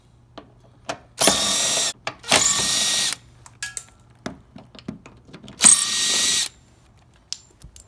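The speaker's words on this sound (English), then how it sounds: "using a T15 Torx bit, I'm going to go ahead and remove all these bolts and pull this inner fender out" Cordless power tool with a T15 Torx bit whirring in three separate bursts of about a second each while removing inner fender bolts on a 2014+ Chevrolet Silverado, with small clicks and rattles of handled parts in between.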